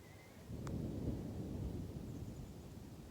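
Thunder rolling during a thunderstorm out on a hiking trail: a deep, sustained rumble swells in after a brief moment and keeps grumbling steadily to the end, fairly loud and with no voices.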